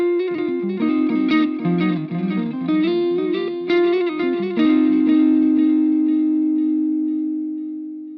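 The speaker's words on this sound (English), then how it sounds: "That's just a sweet little delay right there" An electric guitar through an Eventide H9 clean delay preset plays a short melodic phrase whose notes repeat in echoing trails, ending on a sustained chord that slowly fades.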